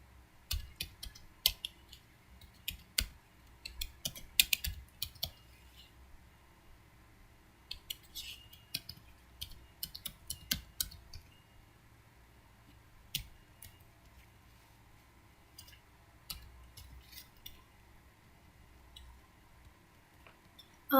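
Sparse, quiet clicks of typing on a computer keyboard, coming in irregular bursts of keystrokes with pauses between them.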